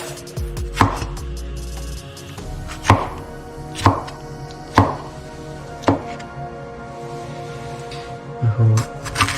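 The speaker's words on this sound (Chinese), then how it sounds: "然后呢，西红柿切块。" A knife cuts peeled carrots and tomatoes into chunks on a cutting board for curry chicken, each sharp chop landing about once a second against a quiet kitchen, with a faint clatter near the end.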